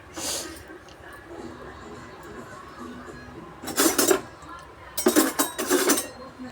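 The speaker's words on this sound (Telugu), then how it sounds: "తర్వాత ఒక చెంచా తీసుకొని బాగా కలపాలి." A spoon mixing in a metal cooking pot, with a few bright clinks at the start, then two clusters of loud scraping and clanking strokes near the end, close by with quiet background.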